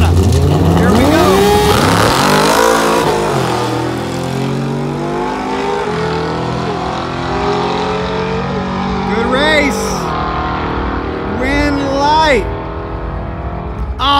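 A car and a fast Yamaha R6 motorcycle launch side by side in a heads-up grudge drag race at a Fontana strip, loud rising engine revs and shifting gear whines close by, with a voice talking over them.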